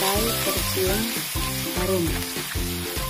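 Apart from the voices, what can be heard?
sautéing ground spice paste in hot oil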